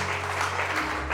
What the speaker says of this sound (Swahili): Leta makofi kwa Yesu.